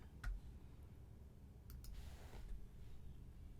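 A computer mouse clicks a few times, quick faint taps over a low background hum with no one talking.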